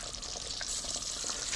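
A pan of fish curry (meen kuzhambu) bubbles and sizzles quietly, with soft, irregular popping and hissing close by.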